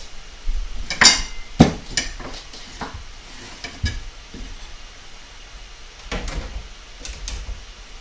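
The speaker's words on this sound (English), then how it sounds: "I'm only going to cook with about 50 cents worth of onion. So let's go ahead and cut that up." A knife chopping an organic yellow onion on a cutting board, heard as a few sharp, irregular knocks and scrapes spread over several seconds, close by with quiet pauses between them.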